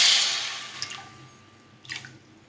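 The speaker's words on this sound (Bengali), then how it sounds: "এক বাটি মেপে জল দিয়ে দেবো।" Water poured into a kadai of sugar on a gas stove to make syrup, a splashing pour that fades within the first second, followed by a couple of faint drips.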